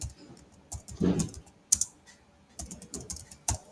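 Someone types a name on a computer keyboard, short bursts of quiet key clicks with brief pauses between, close and soft, no talking.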